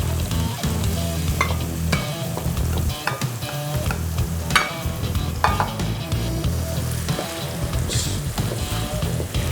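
Canned whole tomatoes being crushed and stirred into sizzling meat with butter and tomato paste for chili beans, a steady loud fry under repeated scraping and pressing strokes.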